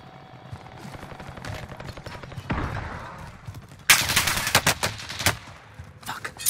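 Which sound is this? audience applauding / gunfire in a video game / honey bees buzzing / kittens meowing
gunfire in a video game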